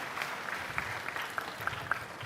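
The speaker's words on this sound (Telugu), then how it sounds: "గట్టిగా చప్పట్లు కొట్టి అభినందించండి" Audience applause at a Mega Parent Teacher Meeting: a short burst of steady clapping from a crowd in a hall, moderately loud with a few sharper individual claps.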